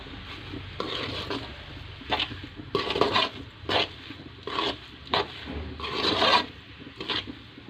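Fresh coconut laddu mixture being stirred with cardamom powder in a pan, producing close, repeated gritty scraping strokes in irregular bursts.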